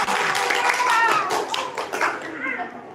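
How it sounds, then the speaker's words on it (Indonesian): An audience claps for a contestant returning to her seat at a Ramadan kultum speech competition final, a brief burst of mixed hand claps under a host's ongoing voice, fading toward the end. "Beri tepuk tangan kembali buat Mbak Lida Untari"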